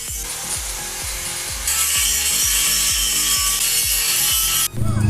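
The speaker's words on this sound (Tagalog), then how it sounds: "So nililinis ko na, ginagrind yung mga sobrang pinag-weldingan for painting" An angle grinder grinds excess weld beads off metal terrace railings, a loud steady whine with rhythmic scraping strokes repeating about every half second, close up, ending with a brief change in pitch.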